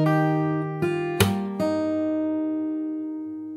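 Fingerstyle acoustic guitar picks a part of a song: a few plucked notes and a struck chord that rings out and slowly decays, played solo and close without speech.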